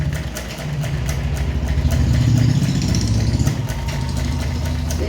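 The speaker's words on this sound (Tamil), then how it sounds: "ஃபினிஷிங் தையல்" A sewing machine stitches the finishing seam of a shirt with a continuous mechanical whir and rapid chattering pulses, close and steady throughout, with no voices.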